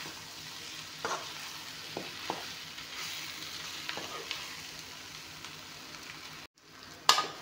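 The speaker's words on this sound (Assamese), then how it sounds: "কুটিখিনি দি ভালকৈ ভাজি ল'লোঁ মাংসখিনি।" Local chicken frying in a pan with ash gourd pieces: a constant low sizzle broken by several soft stirring clacks, then a brief pause and one sharper scrape near the end.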